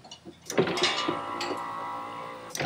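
A faulty car power window motor whirs steadily for about two seconds after a few light knocks, a moderately loud, slightly uneven electric drone that cuts off near the end.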